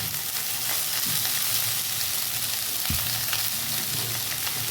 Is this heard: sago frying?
yes